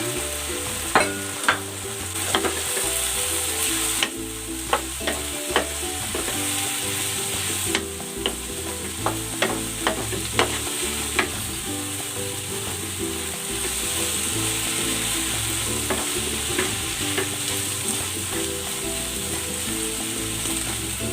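Eggplant sizzles steadily in a hot pan for a braised shrimp-paste eggplant dish, with a utensil repeatedly scraping and clacking against the pan in an irregular stirring rhythm; close and continuous, with no talking.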